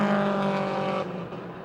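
Race cars at the Motordrome Speedway roar past in a dense, loud engine drone with steady harmonic whine, dropping slightly in level about a second in as they move on around the track.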